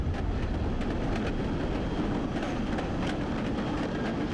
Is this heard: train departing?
yes